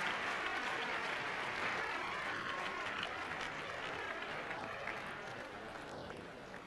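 An arena audience applauds and cheers a figure skater from Poland, a dense, continuous wash of clapping that holds strong and then slowly tapers off, with no talk over it.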